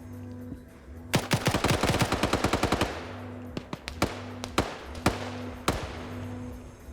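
An automatic weapon dumps a full magazine into a terminal in an online multiplayer shooter: a rapid burst of about fifteen sharp shots, followed by scattered single shots, all over a low steady droning hum.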